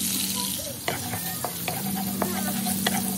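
Garlic fries in oil and margarine, giving a steady close sizzle with a few sharp scrapes from stirring and no voices.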